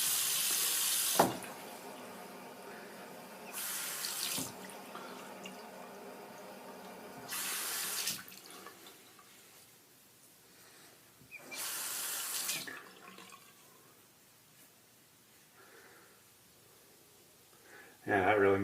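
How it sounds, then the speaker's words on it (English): Tap water runs in short bursts over a shaving soap puck at a sink, four separate rinses of a few seconds each spaced through the stretch, with a quieter room in between and a clatter near the end. "it's going to rinse off the puck here and set that aside"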